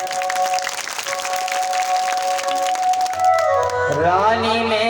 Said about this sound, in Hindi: केकेई के रोल पर खुश होकर के जोरदार तालियां